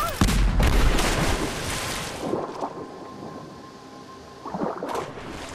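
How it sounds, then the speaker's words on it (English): In the video game Rise of the Tomb Raider, a grenade explodes with a loud, deep boom that rolls into a fading rumble, followed by quieter bursts of gunfire and a second blast near the end. "Grenade out!"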